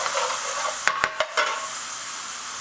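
Garlic and ginger paste fries in a pan for a restaurant-style prawn dhansak, giving a steady close sizzle broken by a few quick clinks and scrapes of stirring near the middle.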